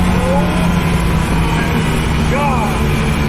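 An SSC Tuatara, the American hypercar, drives loudly with a steady engine roar and a couple of brief rising whine sweeps, with voices heard over it.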